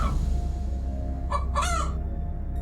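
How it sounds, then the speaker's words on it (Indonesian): A chicken calls out twice in quick succession, a short squawking cry over a steady low background hum. "Suara ayam."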